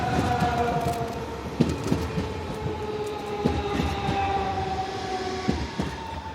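A Class 425 electric commuter train running near Saarbrücken, Germany, heard from close by as steady wheel and rail rumble with rhythmic clicks over joints and a faint sustained whine throughout.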